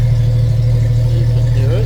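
A 1996 Jeep Cherokee with a Flowmaster muffler idles steadily, its deep, even exhaust rumble close and loud, while someone talks over it.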